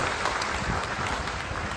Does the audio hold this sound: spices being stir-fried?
no